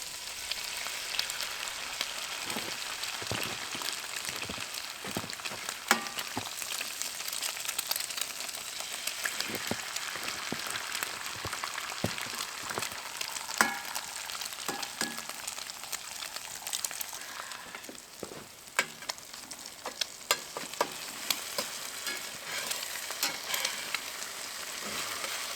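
Eggs fry in a pan at a winter solo campsite, giving a steady close sizzle and crackle with scattered pops and scrapes throughout and no talking.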